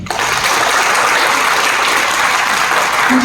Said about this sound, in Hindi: हमारे training system global blockchain academy के लिए एक बार ताली होनी चाहिए